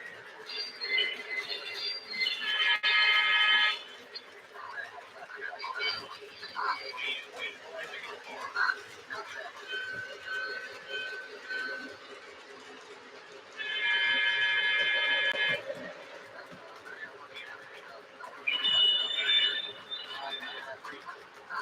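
Electronic tones and buzzy sound effects from a Lionel toy train sound car, a Pennsylvania freight car, come in bursts, one near the start, one midway and one near the end, over a steady mechanical hum with faint background voices.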